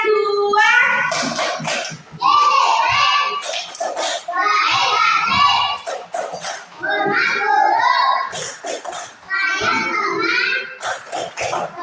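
Schoolchildren in a classroom chant together in a loud rhythmic class clapping routine, voices in unison with sharp hand claps punctuating the chant in several repeated phrases.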